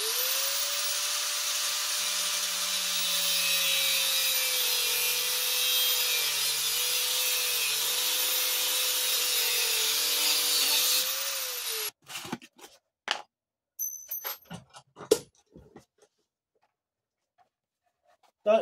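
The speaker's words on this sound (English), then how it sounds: "So what I'm going to do now is cut this with an angle grinder" An angle grinder cuts through the steel blade of a zombie knife, a loud, steady high-pitched whine for about eleven seconds that then stops, followed by scattered clicks and knocks of handling.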